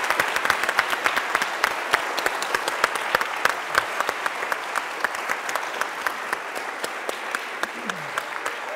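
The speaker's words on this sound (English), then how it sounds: "Big round of applause for them." A panel event audience applauds the speakers, sustained clapping from a large crowd with sharp individual claps standing out, close and steady throughout, a few voices faint beneath it.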